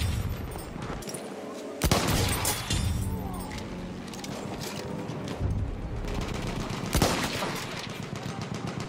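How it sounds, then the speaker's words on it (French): Anti-aircraft guns fire in a battlefield video game, a dense, continuous rattle of rapid shots with occasional heavier booms, under ongoing combat noise, with little speech. "Des canons anti-aériens."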